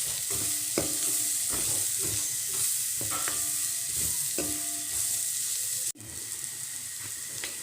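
Bitter gourd sprinkled with coriander powder stir-fries in a pan, a loud, steady sizzle broken by repeated scraping strokes of a spatula and one sharp knock near the end, with no voices.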